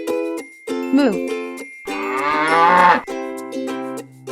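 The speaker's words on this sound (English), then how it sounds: "Moo." A cow moos several times, with long, loud, low lowing calls close by, one of them rising into a strained bellow, and short gaps between them.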